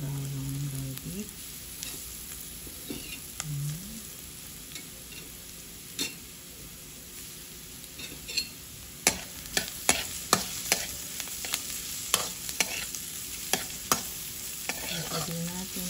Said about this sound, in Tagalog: ihulog na po natin ang bawang garlic.